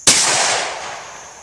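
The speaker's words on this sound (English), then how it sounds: "I'm gonna try and fire dead center of the bucket, and let's see if we can recover the projectile." A single loud gunshot as a .410 deer slug is fired into a bucket, a sharp close crack with a long rolling echo that decays over about a second.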